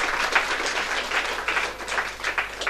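An audience at a temple spiritual lecture claps steadily, a continuous wash of hand claps with slight swells, fairly close and with no talking.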